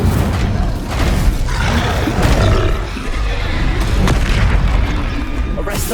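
An Incendio fire spell cast in Hogwarts Legacy on PS5, a loud roaring whoosh and booming rumble of flames during combat, sustained with several heavier bursts.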